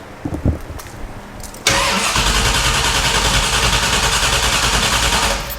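A C3 Corvette engine starts after a few faint clicks and catches into a loud, steady, rhythmic idle with a pulsing exhaust. It runs close by for several seconds, then cuts off abruptly.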